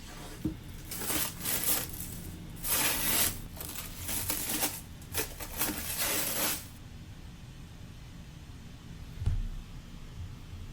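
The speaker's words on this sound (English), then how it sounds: "let's unwrap our Michael Chandler canvas patch frame" Plastic wrapping crinkles and tears off a boxed Michael Chandler canvas patch frame from a UFC mystery box, with several bursts of rustling over about seven seconds, then quiet with a faint thump.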